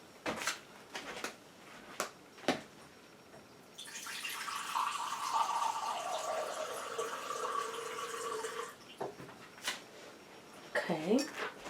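Water running steadily from a kitchen tap into a mixing container while keto crackers are being made, a sustained rush lasting several seconds, with clinks of dishes and utensils before and after.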